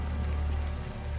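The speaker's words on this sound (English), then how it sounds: "the warm rain is coming down" Warm rain falling in the video game Unavowed, a soft steady hiss of drops on a surface with a low constant hum underneath, brief and even.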